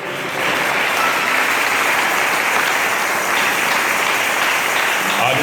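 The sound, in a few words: congregation applause for God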